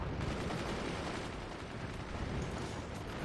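Dense, steady roar of machine gun and artillery fire from a multiplayer battle in the game Forts, a continuous loud wall of rumbling booms and rattling shots without letup and without speech.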